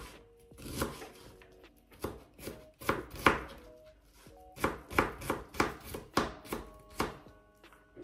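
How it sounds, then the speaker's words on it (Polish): A knife dices half an onion on a cutting board for chicken cutlets, giving irregular bursts of sharp, close chopping strikes, some quick runs of taps and short pauses, with no talking. "Cebulkę pokroję w kostkę."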